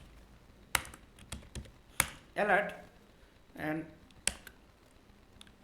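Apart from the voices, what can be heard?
typing code on a computer keyboard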